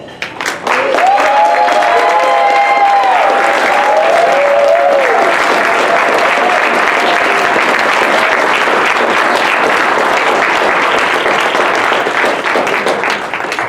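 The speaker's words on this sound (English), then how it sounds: "So we want to see who's going to get the loudest applause." A banquet audience breaks into loud, sustained applause that fills the room, with a few voices whooping and cheering over the first seconds before the clapping rolls on evenly to the end.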